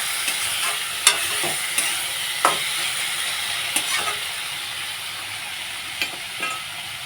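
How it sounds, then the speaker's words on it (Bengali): Mixed vegetables for Bengali shukto sizzle while being stir-fried in a pan. A steady frying hiss runs throughout, broken by several sharp scrapes and clatters of the spoon against the pan. "সবজিগুলোকে ভালোভাবে ভাজা ভাজা করে নিলাম।"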